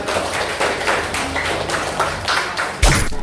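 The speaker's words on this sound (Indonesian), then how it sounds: "Berikan tepuk tangan untuk apa?" A classroom of primary school students claps in a few uneven bursts of taps and thuds, close and fairly loud, with no voices over it.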